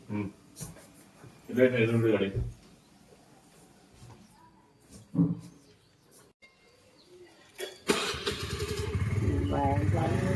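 A motorcycle being taken out at home on the Ugadi festival morning, its engine starting up loud and close near the end and running steadily, after stretches of people talking with quiet gaps.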